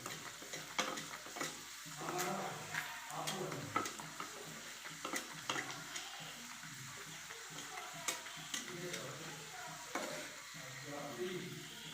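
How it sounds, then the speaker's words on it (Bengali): Mughlai paratha frying in a pan of oil, with oil spooned over the top so it puffs up, giving a steady close sizzle broken by scraping and stirring clicks throughout. "আর একটা তেলে বাজতেছি"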